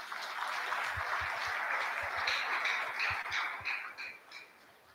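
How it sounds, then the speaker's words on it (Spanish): An audience applauds for indigenous peoples at a tribute event held on 9 August, with full, dense clapping that holds steady for several seconds and then thins and fades toward the end. "Un aplauso para los pueblos indígenas."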